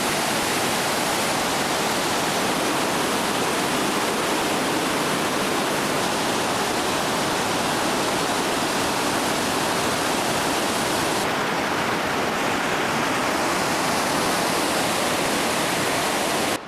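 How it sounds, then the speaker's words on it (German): Broad, steady roar of the Gastein waterfall in Austria running heavy with extra water, a dense continuous rush with no pauses, close and loud throughout. "Wenn der Gasteiner Wasserfall deutlich mehr Wasser führt,"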